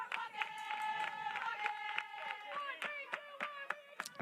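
Indiana fans in a softball stadium, a crowd heard in sharp rhythmic bursts of clapping and banging, with sustained tonal noise ringing through it and cheering mixed in, fairly close and lively.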